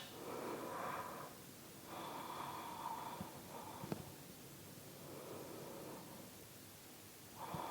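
Slow, deep breaths during a yoga stretch, soft rhythmic inhales and exhales close to the ear, alone and quiet with a faint hiss between them.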